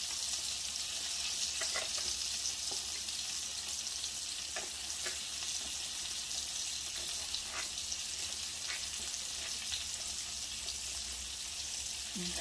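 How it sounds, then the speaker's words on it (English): Garlic frying in olive oil in a pan gives a steady, even sizzle that runs throughout, with a few faint clicks and light stirring taps over it and no talking. "first thing I'm going to add is a little olive oil to the pan. And we're going to add some garlic,"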